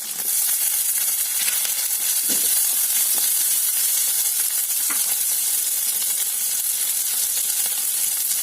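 Chopped green chilies sizzle steadily in a hot oiled pan, a continuous close hiss and crackle with occasional soft pops and no talking.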